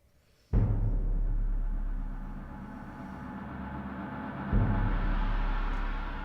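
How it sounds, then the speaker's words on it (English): Two deep, low sampled gong strikes in an orchestral arrangement, the first entering abruptly and sustaining a long shimmering resonance, the second landing a few seconds later with the same broad, slowly fading wash. "And then a nice little gong, very, very, very subtle gong."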